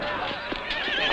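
Horses trained to carry riders in heavy armor whinny and move through a battle scene, a dense overlapping wash of neighs and hoofbeats with a narrating voice over them.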